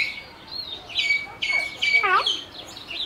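Small bird chirping and calling close by: a quick series of thin, bright tweets and warbling trills, rising and falling in short bursts over about three seconds against a quiet background.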